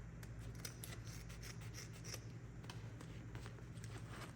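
Fabric scissors make a series of soft, rapid rasping snips while cutting a folded velvet ribbon loop on the diagonal for bow tails, faint and close over a low steady hum.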